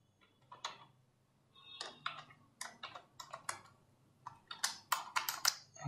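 Close, quiet clatter of keys on a computer keyboard as an IPv6 address is entered, coming in irregular bursts of rapid taps separated by brief gaps, with no speech.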